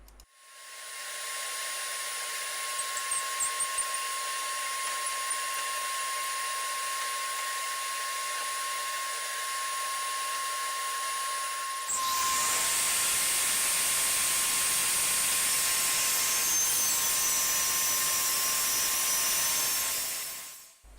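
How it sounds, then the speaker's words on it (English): A power saw driven along a jig rips a thin strip from a hardwood board for a stick ukulele stand, a steady loud whine that shifts into a harsher, broader roar partway through as the blade bites, with no talking. "So now I'm nearly ready to try my new jig to cut a thin strip."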